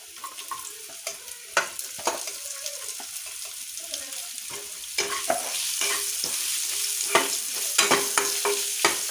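Onion frying in oil in a pan for Marathi-style dal tadka while a spoon stirs it, giving a steady close sizzle broken by repeated scraping and clinking strokes, with no talk.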